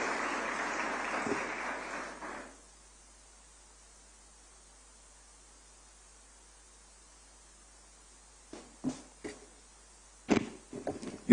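An audience at an HPV vaccine launch event in Abuja claps for about two seconds, a soft, distant wash that stops abruptly, followed by near silence with a few faint knocks and shuffles.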